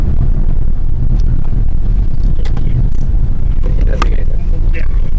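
Car travelling through traffic on a road trip from Panvel toward Pandharpur, giving a steady, loud low engine and road rumble from inside the cabin, with a few faint higher squeaks and rattles; a voice talks over it.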